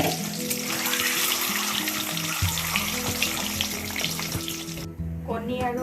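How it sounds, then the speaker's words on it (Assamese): Potatoes and eggs rubbed with salt and turmeric fry in hot oil in a wok, a loud steady sizzle that fills the whole stretch with scattered crackles and pops, close up. "প্ৰথমতে আলু আৰু কণীখিনি নিমখ হালধি সানি কেৰাহীত তেল গৰম কৰি বেলেগ বেলেগকৈ ভাজি লৈছোঁ।"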